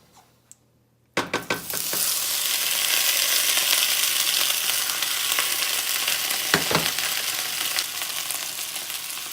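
Microwaved potatoes drop into hot grapeseed oil in a cast iron pan with a sudden crackle. A loud, steady sizzling and spattering follows, with occasional scraping stirs, close by and without speech.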